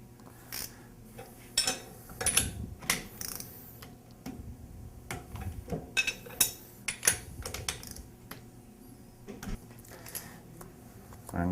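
A torque wrench tightens bolts in a crisscross pattern on an H2O Jet intensifier, a series of quiet irregular ratcheting clicks and metallic ticks close by, with no speech.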